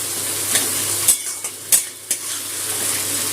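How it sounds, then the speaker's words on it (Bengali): Chopped onions sizzle and fry in a pan until browned, with a steady crackle, broken by a few sharp clicks and scrapes of stirring. "পেঁয়াজটা একটু লাল করে ভেজে নেব"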